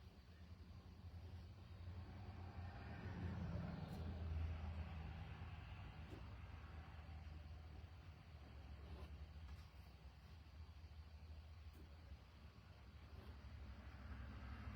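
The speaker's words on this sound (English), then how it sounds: "there's a little bit of road traffic, road noise, but for the most part, this park is pretty quiet" Faint, steady road traffic hums in the distance across a quiet park, a low continuous rumble that swells gently and then settles, with no voices.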